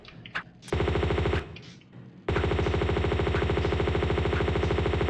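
Gunfire in the video game Tomb Raider II, a short burst of rapid shots, a pause, then a long sustained stream of rapid-fire pistol shots, loud and continuous without speech.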